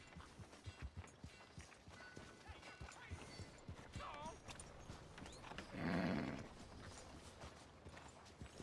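Horse hooves clip-clop steadily amid busy ambience in Red Dead Redemption 2, with a brief whinny partway through and people talking over the scene.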